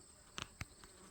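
Faint bee buzzing hums steadily in the background around blooming clematis flowers, with a few short soft bumps rising briefly above it.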